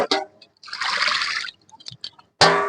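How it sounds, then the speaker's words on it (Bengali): Fish being rinsed clean in a bowl of water after soaking in salt water, heard as short splashes and swishing pours broken by pauses and small drips, close and fairly loud. "এবার মাছগুলোকে আমি পরিষ্কার করে ধুয়ে নেব"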